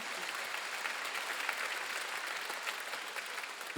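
A church congregation at a Wednesday worship service claps in a steady, even burst of applause that continues at moderate level before ending abruptly.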